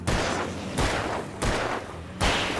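Gunshots from a gun in the Alan Wake game crack out four times at roughly even intervals, each a loud sharp blast with a short decaying tail, close by and without talking.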